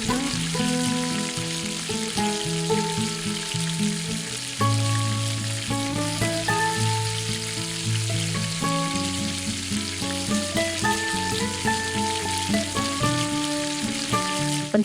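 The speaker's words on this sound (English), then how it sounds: "Fry the vegetables only for 2 to 3 minutes to get the crunchiness." Vegetables frying with a pinch of turmeric and salt in a miniature pan, a steady sizzle running under louder tonal music throughout.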